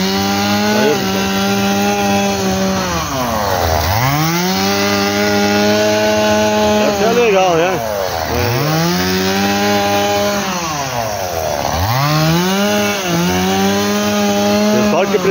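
A loud chainsaw engine drones nearby while cutting grass, its pitch repeatedly dropping and climbing as it bogs down and revs, with no pause.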